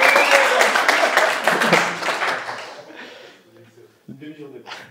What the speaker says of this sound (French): Merci, on va applaudir.